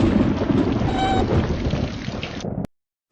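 Steady rain pours down with a low rumble of thunder rolling underneath, loud and close, then cuts off abruptly.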